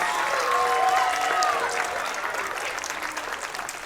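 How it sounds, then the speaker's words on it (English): Audience applause for students at a school Veterans Day assembly, a steady wash of clapping that tails off slowly over a few seconds, with faint voices mixed in. "Can we please give our students a round of applause for asking these questions?"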